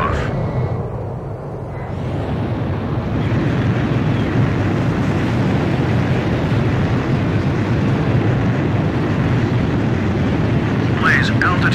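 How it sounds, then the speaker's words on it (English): A fighter jet in Ace Combat 5 takes off from a carrier deck at sea, a loud steady engine roar building over the first few seconds and then holding, with wind and ocean wash mixed in. "Blaze, you are cleared for takeoff."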